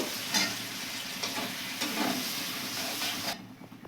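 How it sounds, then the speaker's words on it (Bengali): Ground spice paste frying in a pan over low gas for eggplant dolma, a continuous close sizzle with soft stirring scrapes, dropping away abruptly just before the end, no one speaking. "যে মশলাগুলো একসঙ্গে গুলে রেখেছিলাম দিয়ে দিলাম এবার একটু কষে নেব"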